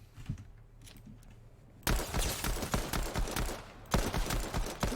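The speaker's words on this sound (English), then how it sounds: "This is why I like the pistol." Rapid, loud pistol fire in Fortnite Chapter 2 cracks out in dense bursts after a quiet stretch, with sharp shots tumbling over one another and a second volley near the end.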